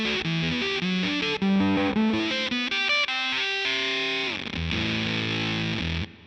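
Electric guitar through a Walrus Audio Fundamental fuzz pedal, a gritty saturated riff of plucked notes and chords with buzzing fuzz sustain, loud and close with no talk.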